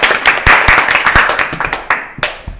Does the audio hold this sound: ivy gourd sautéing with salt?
no